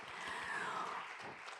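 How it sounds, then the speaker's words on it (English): Faint, steady round of audience applause filling a conference hall at the close of the 2024 ICAO Legal Seminar, an even wash of clapping heard from a distance. "let's give another big round of applause"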